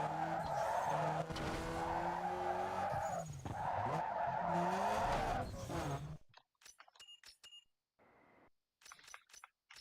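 A car drifting downhill in Need for Speed Underground 2, its engine droning loud and close while the tires squeal in a long, wavering skid for several seconds before it cuts off into quiet, scattered beeps and clicks.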